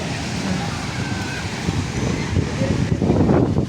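Wind rushes steadily across a crowded seaside spot, a broad continuous roar that swells toward the end and buries any crowd noise beneath it.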